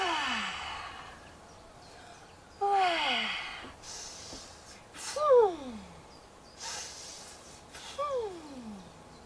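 Seniors in a gym class breathing out audibly during exercise, several long airy sighs and exhalations spaced a couple of seconds apart, close and fairly loud.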